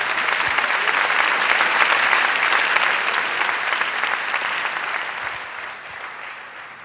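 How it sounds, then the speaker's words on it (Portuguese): A church congregation bursts into loud, sustained applause, a dense wash of many hands clapping together that holds steady before easing off slightly toward the end. "Aleluia, dê uma forte salva de palmas para Jesus."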